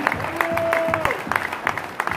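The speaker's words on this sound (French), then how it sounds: "applaudissements" Audience applause at an Académie Gault&Millau ceremony honoring French chefs, a steady wash of clapping with a faint sustained tone and some voices running underneath.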